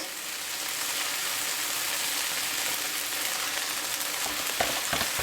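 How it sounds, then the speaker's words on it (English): Onions frying in a pan for vegetarian sloppy joes, a steady close sizzle that holds evenly throughout, with a few light scraping clicks of a utensil near the end. "we are going to warm up these onions"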